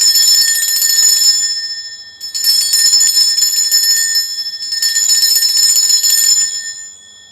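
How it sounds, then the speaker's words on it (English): A bell rung to cleanse a space gives three long bursts of rapid, bright ringing separated by short pauses, loud and close with no talking. "I am now going to ring this bell just to cleanse the space around us"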